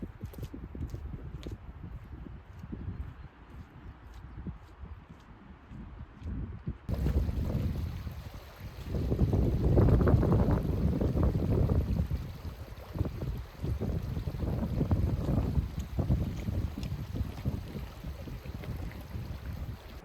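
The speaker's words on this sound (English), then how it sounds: "there's gusts of wind flying through here, like 30 mile an hour" Strong gusts of wind, around 30 mph, sweep across an exposed Lake District fell, rumbling and buffeting the microphone in rising and falling surges, quieter at first and then loud and sustained.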